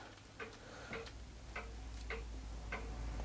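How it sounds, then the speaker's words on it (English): Daisy No. 155 BB gun loading mechanism being rotated back, giving a series of light, crisp mechanical ticks in a regular rhythm over about three seconds, close and fairly quiet against a low steady hum. "you load the BBs in and then you rotate this back"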